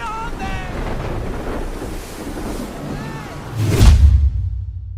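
Stormy night wind roars and gusts steadily, with a swelling rush and low rumble building near the end, like weather sweeping over open water.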